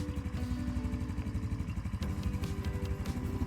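Motoland Wildtrack ATV quad's small engine idling, a steady, even low rumble with a fine rhythmic pulse, close and fairly quiet, with a few light mechanical clicks over the top.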